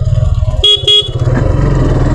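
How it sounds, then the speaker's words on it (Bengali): A Suzuki Gixxer 150 motorcycle's single horn gives two quick, loud honks close up over the low rumble of the idling engine. "হর্ন শুধু সিঙ্গেল হর্নেই দেওয়া হয়েছে"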